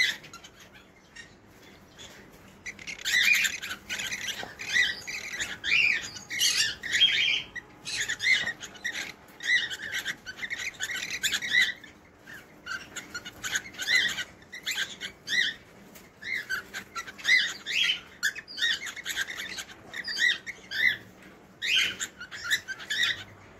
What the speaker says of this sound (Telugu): మేటింగ్ టైంలో మేల్ బర్డ్ చూడండి, దాని సౌండ్స్ చూడండి